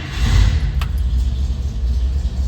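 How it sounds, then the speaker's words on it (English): A 1955 Chevrolet two-door hardtop engine runs at a steady idle, a close, loud low rumble that holds even and smooth with slight fluctuations. "Starts up and runs like purrs like a kitten."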